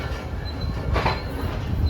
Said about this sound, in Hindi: रवाना हो रही है हमारी 33 Afaq business express Lahore junction के लिए